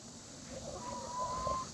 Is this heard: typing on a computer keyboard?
no